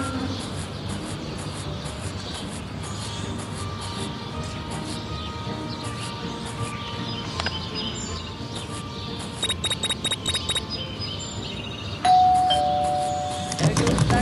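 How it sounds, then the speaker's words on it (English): A doorbell rings in the Scary Teacher 3D video game, repeated chiming tones over steady game background noise, with a sharp tone near the end. "There goes that stupid bell again."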